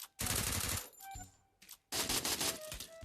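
Rapid automatic gunfire in the Free Fire mobile shooter with an Evo XM8 weapon, two loud close bursts of dense shots separated by a short gap with a few scattered shots.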